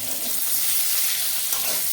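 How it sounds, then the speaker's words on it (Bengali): Potatoes fry in a wok with cumin, turmeric, chili and salt, giving a steady loud sizzle with light stirring scrapes throughout, no voices. "এখানে আমি একটু জিরা, হলুদ, মরিচ আর একটু লবণ দিয়েই নেড়ে চেড়ে"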